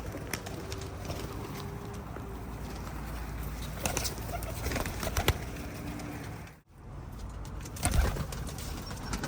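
Soft pigeon coos drift over a steady background hum inside a loft, with faint rustling and occasional fluttering nearby.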